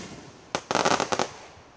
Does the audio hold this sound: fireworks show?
yes